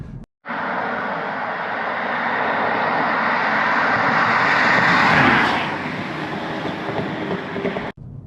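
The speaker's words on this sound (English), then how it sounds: "Just put it into manual, so I'm in dynamic, manual, second gear, and take it down this testy B road for a mile." Modified Audi A6 (C7) Avant BiTDI diesel accelerating in manual second gear on a twisty B road, a dense roar of engine, tyre and wind noise swelling steadily to a peak before easing off, heard from inside the car.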